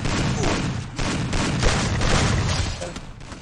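Rapid gunfire bursts from the video game Garena Free Fire, dense and continuous with heavy low thuds and booming shots running throughout.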